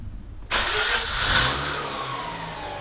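Mazda RX8 rotary engine with new spark plugs cranks and fires abruptly, catching with a rising rev before settling into a steady, slightly uneven idle, close and fairly loud.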